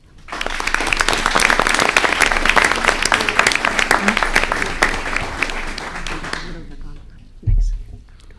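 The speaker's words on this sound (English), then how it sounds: "So I want to give them a big applause." Audience at a school board meeting breaking into loud, dense applause that holds steady for several seconds, then fades out, followed by a brief thump.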